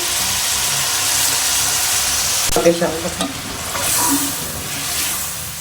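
Water poured into hot oil for a black chickpea soup sizzles and crackles steadily, with a burst of spattering as the water hits the pan, then settles into a continuous close frying hiss with no talk.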